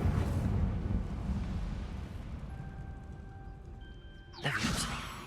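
Incendio fire spell cast in Hogwarts Legacy: a burst of crackling, roaring flame at the start that fades out, then a second sharp whooshing blast near the end, with no talk.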